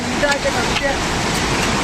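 Water at Palchuram Waterfalls in the Kottiyoor Wildlife Sanctuary forest roars with a steady, dense rush throughout, while a voice talks over it.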